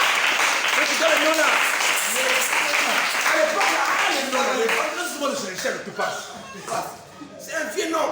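A church congregation applauding the Lord, dense sustained clapping from many hands filling the room, close and loud, fading toward the end while a voice speaks over it.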